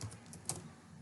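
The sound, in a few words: typing on a computer keyboard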